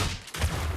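A short, close burst of rapid gunfire in the mobile battle game Zooba, lasting under a second with a brief dip in the middle.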